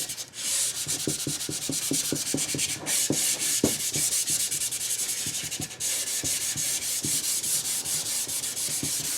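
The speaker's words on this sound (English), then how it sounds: "Little quick hand sand at the top." Sandpaper rubbed by hand across a cherry wood spice box, a close, continuous scratchy rasp with quick rhythmic back-and-forth strokes and no talking.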